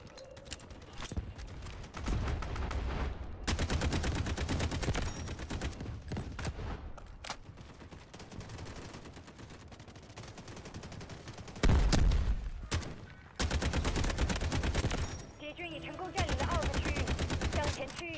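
Assault rifle fire in the mobile shooter Delta Force Mobile, several sustained automatic bursts of dense, rapid shots separated by brief lulls, with a louder blast midway and someone talking at times.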